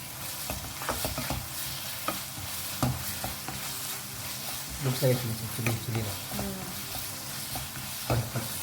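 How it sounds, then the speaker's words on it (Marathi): Chicken sausage chilli being mixed in a pan after black pepper powder goes in, a soft continuous sizzle under scattered spoon scrapes and taps, with a faint hum and a brief murmur of voice. "अब इसमें डाल रही हूँ 1/4 टीस्पून ब्लैक पेपर पाउडर। अच्छे से मिक्स करें।"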